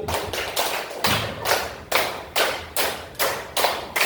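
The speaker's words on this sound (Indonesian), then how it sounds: "tepuk 5, tepuk 3, tepuk 1, tepuk 5 2 kali" A group claps together in a counted rhythm during a classroom ice-breaker, sharp close-up claps landing in distinct bursts and clusters with short pauses between them.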